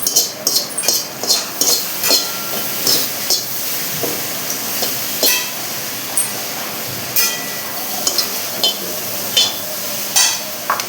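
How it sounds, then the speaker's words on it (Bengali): Whole coriander and cumin seeds lightly frying in a pan for Bengali moong dal, with a spatula clinking and scraping against the pan in a steady rhythm over a soft sizzle. "এখন গোটা মশলাগুলি একটু হালকা ভেজে নেব।"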